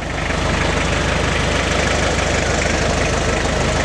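An off-road vehicle's overheating engine idles with a loud, steady, rapid low knocking throb and a constant mechanical drone, close by and unbroken for several seconds.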